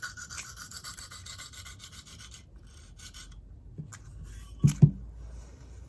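Knife being sharpened on a 150 grit whetstone with slow, light strokes, producing soft scraping and rubbing sounds in short passes, close and quiet, ending in a couple of sharper knocks.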